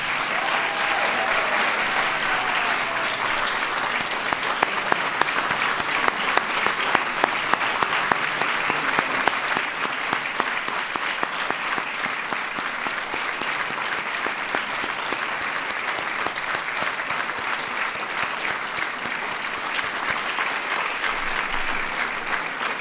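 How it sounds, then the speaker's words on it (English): A large audience applauds honorees at a formal award ceremony, the clapping dense, steady and sustained for the full stretch, with a few sharper claps standing out early on and no speech above it. "please give a big round of applause to all the honorees"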